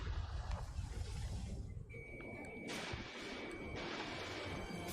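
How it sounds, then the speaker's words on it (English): A missile launch from a fighter jet in the Ace Combat 7 video game: a dense, roaring broadband rush with a thin, steady tone running through the middle of the clip, loud and sustained throughout. "Strider 1, missile launched"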